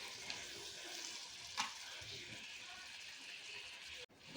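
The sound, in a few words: paneer bhurji frying on high flame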